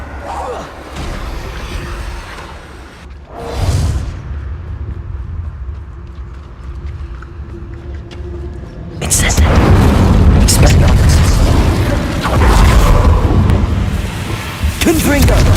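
A Bombarda blasting spell explodes in the video game Hogwarts Legacy: a sharp boom near four seconds, then a louder, sustained roaring blast with crackling debris from about nine seconds on, over a low rumbling background.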